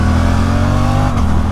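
A Suzuki GSX-8S motorcycle engine runs loud and close during a test ride, holding a steady, throaty tone.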